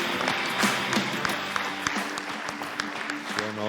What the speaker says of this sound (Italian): bisogna fare un applauso ai genitori perché veramente sono stupendi